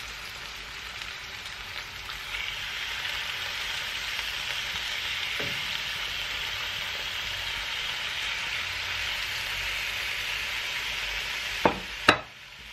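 Steady, continuous sizzling of chicken frying in a pan, with a brief clatter near the end.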